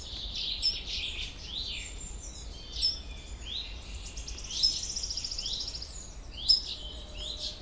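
A young chiffchaff fledgling calls near its nest outdoors, giving thin, high chirps every couple of seconds that stay faint and moderately distant against a quiet background.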